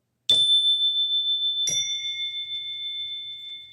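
Two clear bell dings, each a sharp struck onset followed by a long, pure ringing tone that slowly fades, the second strike about a second and a half after the first.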